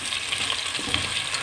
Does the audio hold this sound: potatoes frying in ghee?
yes